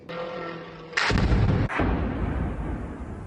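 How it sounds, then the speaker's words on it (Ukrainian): A sudden heavy blast erupts after a low hum as a Shahed drone strikes during a night attack in Ukraine, followed by a second booming impact and a long rumbling roar fading out. "Оцей звук, коли шахет таки приземляється."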